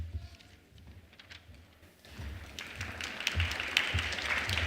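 Audience applause at a university engineering distinguished lecture, starting sparse and faint, then swelling into fuller, louder clapping from a seated crowd.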